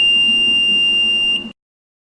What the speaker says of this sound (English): The long beep sound is indicating that the votes are being cast and are getting registered